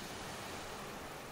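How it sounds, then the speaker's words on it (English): Ocean waves wash in a soft, continuous hiss of surf in a sleep relaxation recording, steady and faint with no voices. "listen to the waves,"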